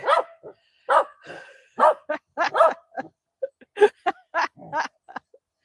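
A King Charles spaniel barking indoors, about a dozen loud, close yips and barks in quick irregular bursts with short pauses between.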